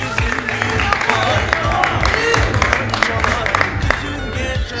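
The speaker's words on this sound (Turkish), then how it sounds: "Onlara da bir alkış gelsin arkadaşlar" A crowd at a halay and house music night claps for the musicians in dense, uneven bursts for several seconds, with low rumbling background sound and scattered voices mixed in.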